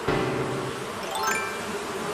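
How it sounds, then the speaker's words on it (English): Bees buzz in the Animal Crossing video game, a steady insect drone holding for a couple of seconds with a light chime-like tinkle and sweep over it, fairly close and unaccompanied by talk. "I can never catch bees that quick"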